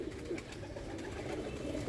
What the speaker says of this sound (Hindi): ये फिरोजपुरी कबूतर है